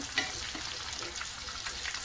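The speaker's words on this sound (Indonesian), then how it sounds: "Ini aku masih gorengin." Tempeh and tofu deep-frying in hot oil as Indonesian gorengan, a steady dense sizzle and crackle throughout with a faint clink near the start.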